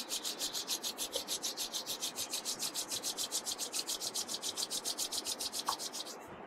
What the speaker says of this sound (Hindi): और अब दोनों हाथों को आपस में रगड़ लीजिए।